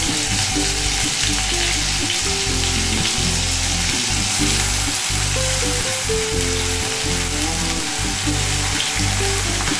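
Onion and garlic paste frying in a pan for an old traditional Bengali dish, a loud, steady sizzle that runs the whole time with soft stirring scrapes, no talk.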